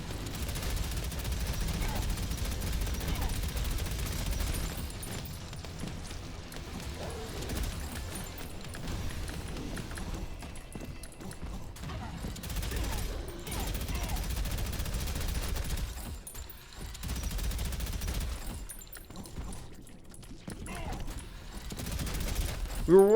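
Weapon fire in the shooter Prodeus rattles on almost without pause, with dense repeated shots and heavy low rumble under someone talking for most of the stretch.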